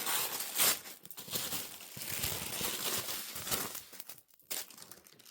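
Paper being ripped and crumpled during junk journaling at a close, quiet tabletop, with short crinkling tears and rustles in irregular bursts.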